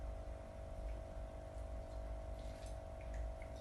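Water runs steadily over loose tea leaves during a second quick rinse, a continuous close trickle and splash with no voices.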